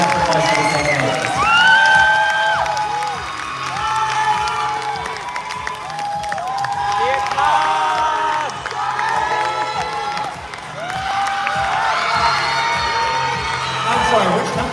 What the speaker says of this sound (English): a big warm round of applause for all of the candidates